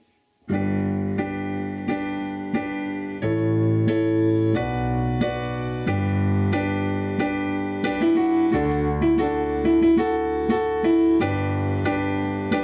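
A piano plays the third section of a pop song with both hands together. Full sustained chords shift over a deep bass line, and a brighter melody comes forward in the second half, close and unaccompanied.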